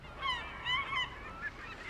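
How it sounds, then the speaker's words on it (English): Geese in a flock give several honking calls in a loose rhythm, moderately near, with quieter gaps between them and no talk over them. "We can't fight up a whole flock of birds!"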